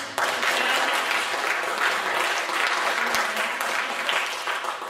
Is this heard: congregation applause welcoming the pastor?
yes